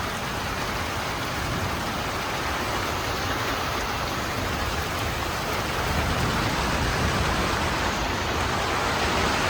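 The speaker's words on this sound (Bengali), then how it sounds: "আর মুষলধারে বৃষ্টি হচ্ছে।" Heavy monsoon rain pours down outdoors, a dense, even hiss of drops that holds steady and loud throughout, with no voices.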